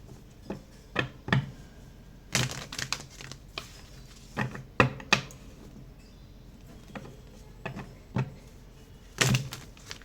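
Tarot cards being shuffled by hand: a run of sharp, irregular riffling and slapping bursts with quiet gaps between them, close and moderately loud, no voice.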